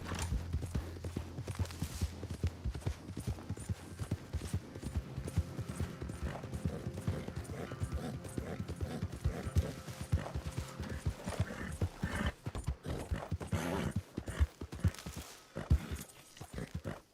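Horse hooves clip-clop in the Red Dead Redemption 2 video game, a dense stream of sharp close hoofbeats with a faint low drone early on and quicker, louder strikes toward the end.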